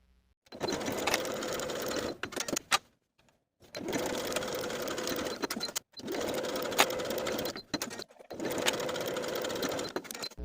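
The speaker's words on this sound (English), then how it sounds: "Sew each seam with a 1/2 inch seam allowance and press your seams open." A sewing machine stitches the seams of a skirt in four steady whirring runs, each several seconds long and separated by brief pauses.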